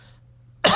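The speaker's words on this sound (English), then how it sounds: "But hold on, I have to cough." A single sharp cough bursts out close up after a moment of near silence.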